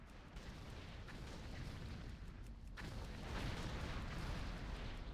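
Ship cannons firing in World of Warcraft, a steady roar of deep booms and rumbling blasts that swells louder toward the end, with no clear gaps between volleys.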